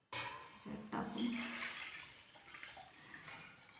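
Water poured over a Shiva linga during a Mahashivratri puja at home, a soft splashing trickle that starts abruptly, swells for a moment, then thins to a quieter running wash with faint voice-like tones.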